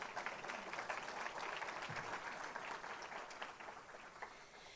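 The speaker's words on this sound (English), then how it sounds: "Now, yeah, that deserves a round of applause." Audience applause at a community address, a steady wash of clapping that runs through the whole stretch at a low, distant level without clear breaks.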